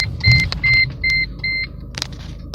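A Mercedes car sounds a warning chime because it wrongly thinks the handbrake is on: four clear, evenly spaced beeps over a low cabin rumble, followed by a few soft clicks.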